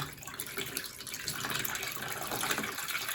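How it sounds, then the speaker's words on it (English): A ThermalTake Pacific PR32-D5 Plus pump runs in a water-cooled i9-14900 PC loop, giving a steady, continuous rush and trickle of flowing water at moderate level, without speech. "let me turn this pump on and I'll show you. It has plenty of water flow."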